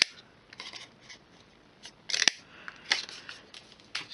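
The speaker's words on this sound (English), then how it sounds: "I'm going to punch out 4 1/2 inch circles" A craft paper punch cuts circles out of card stock with several short, crisp snips and clicks, up close and fairly quiet, separated by brief pauses.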